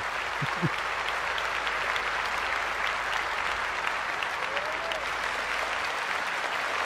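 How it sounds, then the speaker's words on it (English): Recorded crowd applause from a phone app: a constant, dense wash of clapping and cheering at steady loudness for the whole stretch, with a brief voice-like murmur early and a faint whistle partway through. "Oh, this app can go 12 hours. 12 hours of applause"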